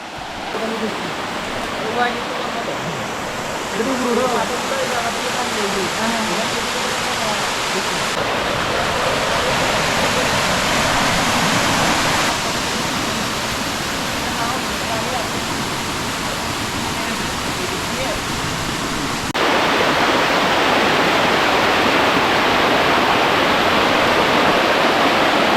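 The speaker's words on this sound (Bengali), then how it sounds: "দর্শক, বোয়ালিয়া রেঞ্জের সর্বশেষ ঝর্ণা।" A waterfall in the Boaliya range of the Mirsarai hills roars as a loud, continuous rush of falling water, heard up close. The roar shifts in level a few times, and no voices are heard.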